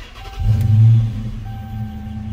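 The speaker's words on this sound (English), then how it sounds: "and then we're gonna start the vehicle." A 2012 Dodge Charger R/T V8 starts up close by: a short cranking burst, then the engine catches with a loud low rev and settles into a steady, deep idle.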